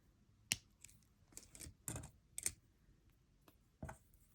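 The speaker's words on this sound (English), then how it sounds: "cut off about 1 centimeter of wire" Jewelry wire for a puka shell choker being snipped, a few sharp clicks spaced across the moment, close and quiet with no voice.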